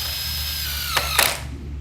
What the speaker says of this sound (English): I'm putting the screw in at an angle here to catch the bottom flange